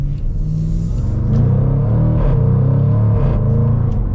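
A 2023 Jaguar F-Pace SVR with a 550-horsepower 5.0-liter V8 pulls hard under short-shifted acceleration, a loud, steady engine roar with rising revs and brief dips at gear changes, no talking over it.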